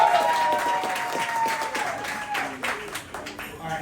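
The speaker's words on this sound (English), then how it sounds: "give me a cheer." Guests at a wedding welcome dinner cheer and clap in a room, a full burst of applause that starts loud and slowly thins out, with a voice heard over it.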